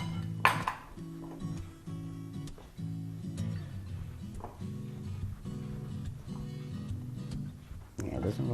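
Almond cookie batter with eggs is mixed in a bowl, giving a steady, rhythmic repeating churn with occasional sharper clinks of the utensil against the bowl.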